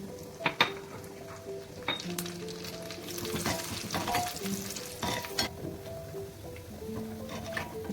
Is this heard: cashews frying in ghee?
yes